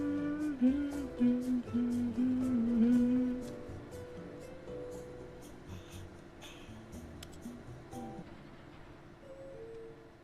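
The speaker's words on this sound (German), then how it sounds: "Beruhigende Fahrstuhlmusik." Calm elevator music plays in the video game Stanley Parable Ultra Deluxe: a soft, quiet melodic line for a few seconds, then a faint sustained backing with light clicks, with no speech.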